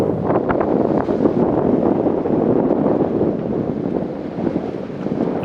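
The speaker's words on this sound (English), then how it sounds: "as soon as we had pitched the tent, the wind started to pick up dramatically" Strong desert wind sweeps across sand dunes in Oman, a steady, loud, continuous roar and buffeting against the microphone with no break, sounding close and enveloping throughout.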